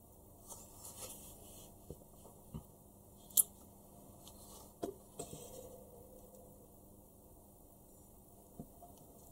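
Scissors snip through fabric during a sewing session, a few soft, brief cuts spread out over quiet room tone, fairly close but faint.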